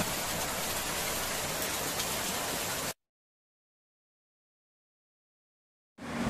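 Steady rain falls outdoors on Chorao Island in Goa as a dense, even hiss for about three seconds, cuts to silence, then resumes briefly at the end.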